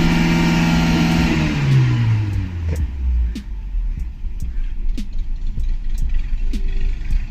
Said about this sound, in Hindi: अभी आपने देखा रेस करने पे गाड़ी का पिकअप जैसा चाहिए था ऐसा नहीं था